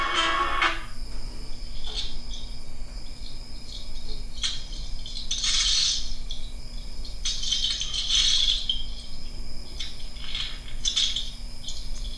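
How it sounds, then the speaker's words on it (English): Underwater crackling and rattling pops in irregular clusters over a steady low hum: a recording of a fish feeding frenzy played back. "let's play some fish sounds."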